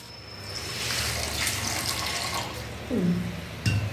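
Water pours into a tumbler in a home kitchen while sugar candy is being made, a continuous close splashing stream that swells toward the end.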